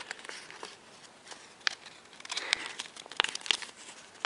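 Paper being folded and creased for an origami model of Mowgli's stick, giving soft crinkling and crackling with several sharper crisp creases, close and quiet, with no talking.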